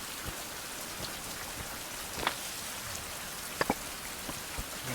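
Rainfall in the survival video game Survival: Fountain of Youth, a steady hiss of rain on surfaces with scattered droplet taps and a few louder ticks, soft and continuous without speech.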